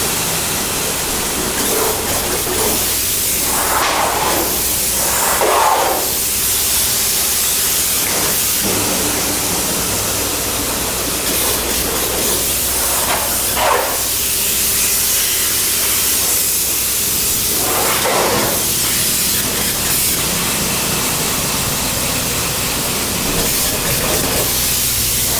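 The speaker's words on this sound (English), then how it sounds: "you guys can see him spraying, and that foam is actually hot." Closed cell spray foam insulation sprayed onto the inside of metal building purlins, a steady loud hiss running throughout with recurring bursts as the spray gun passes, no talking.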